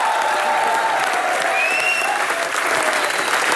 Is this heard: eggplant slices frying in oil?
no